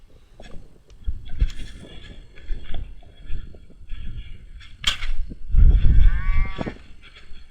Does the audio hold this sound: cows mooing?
yes